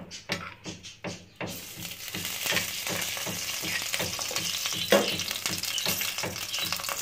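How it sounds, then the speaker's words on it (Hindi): Ghee heating in a pan for a restaurant-style white chana dish, a few sharp knocks at first, then a steady close sizzle with a faint rhythmic scraping underneath. "मैं इसमें डाल रही हूँ घी"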